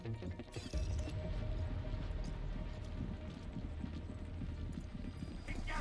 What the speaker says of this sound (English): Hear a lot of footsteps.